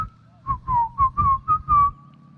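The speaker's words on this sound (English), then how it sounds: "Just purse your lips and whistle, that's the thing." A person whistles a short tune of about six clear, close notes in a lilting rhythm, loud against a quiet background with no talking.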